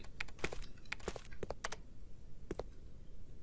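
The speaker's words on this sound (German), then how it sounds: "Wer tippt da am PC rum?" Someone types on a PC keyboard in the video game Resident Evil Code Veronica X, irregular quiet key clicks in short bursts and single taps over a low room hum.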